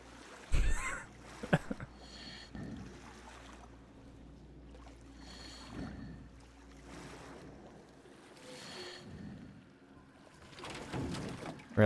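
Boat ride in the video game Metro Exodus: quiet water lapping and wave-like swells drift past in slow surges, with a few sharp thuds at the start and a louder burst of splashing at the close.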